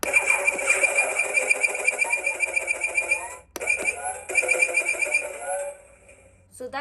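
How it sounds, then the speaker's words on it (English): Electronic blaster-fire effect from a Star Wars Toybox Slave 1 toy ship, played through a small speaker as loud, buzzy, rapidly pulsing bursts with a brief gap in the middle, close and unaccompanied. "So this one makes the shooting sound,"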